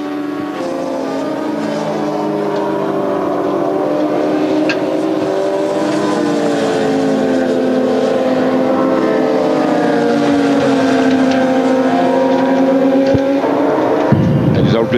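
Yamaha R1 endurance racing motorcycles scream around the Bol d'Or circuit in a continuous loud roar, several engines rising and falling in pitch as they pass, with faint voices beneath.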